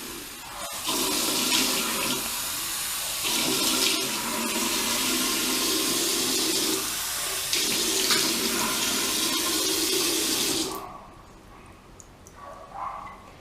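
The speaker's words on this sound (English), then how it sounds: "And then wet your face with the warm water." Warm tap water running into a sink while the face is wetted, a steady splashing hiss broken by brief pauses as hands move under the stream, then the tap shuts off with faint drips and handling.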